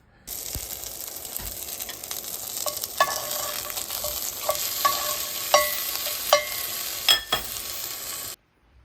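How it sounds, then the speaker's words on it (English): Marinated meat seared outdoors on a grill to medium gives a steady, close hiss of sizzling fat, broken by light metallic clinks and scrapes of a utensil, with no talking, before cutting off abruptly near the end. "Let's go grill this off, finish it off, make sure it's medium, and taste it for flavor."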